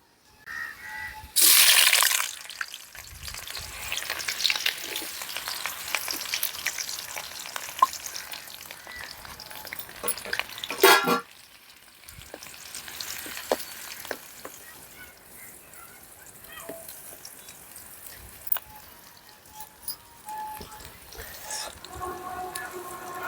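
Chopped onions frying in hot oil with cumin and pepper give a loud burst of sizzling as they drop in, settling into a steady softer crackle with occasional stirring scrapes and clinks, one sharp sizzle flaring midway.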